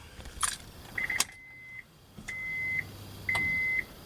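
Keys jangle briefly, then three short electronic chime tones ring in sequence over a quiet background, a car's key-in-ignition warning as the key is turned to on with the fuel pump running and no power.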